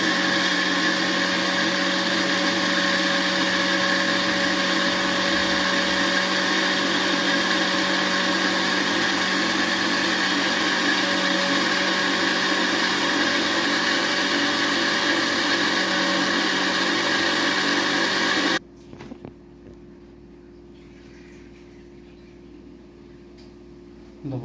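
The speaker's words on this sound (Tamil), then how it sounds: "தக்காளியவும் இதேமாரி நல்லா கூழாக அரைச்சி எடுத்துக்குவோம்" A mixer grinder grinds tomatoes into a smooth pulp for fish curry, a loud, steady motor whine with rattling contents running unbroken for about eighteen seconds, then cutting off abruptly into quiet.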